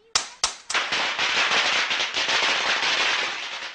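A toy cap gun fires several sharp, loud, firecracker-like pops in quick succession, then a dense crackling burst continues strongly for several seconds.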